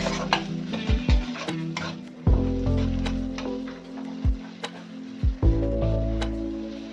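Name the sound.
frying mixed matar paneer masala in a pan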